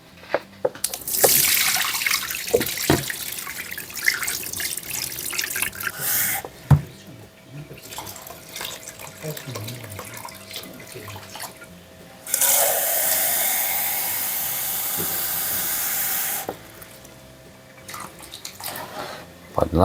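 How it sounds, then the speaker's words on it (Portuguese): Earthworms are rinsed in water at home, with tap water running and splashing in bursts, sloshing and dripping between pours, and voices talking intermittently nearby. "Quando você lava a minhoca na água"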